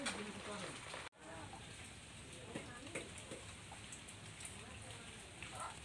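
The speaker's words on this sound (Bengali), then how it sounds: "বাইরে বৃষ্টি হচ্ছে" Rain falling outside in a village, a soft steady patter of drops on surfaces, faint and continuous with a brief dropout early on, and people talking over it.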